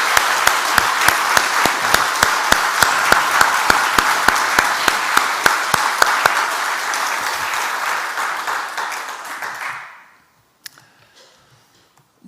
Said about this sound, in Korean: 우리 은근자매 위해서 우리 큰 박수 한번 날까요?